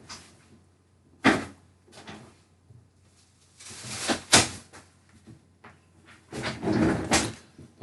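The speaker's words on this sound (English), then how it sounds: "just closing the door" An indoor door is shut, giving a couple of sharp, close knocks and thuds with quieter rustling and shuffling between them in a fairly quiet room.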